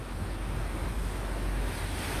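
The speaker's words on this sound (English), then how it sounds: "you can see the water eddying and gushing under there" Floodwater from a swollen river churning and gushing under a bridge, a steady, dense roar of rushing water close by, with some wind buffeting and no voices.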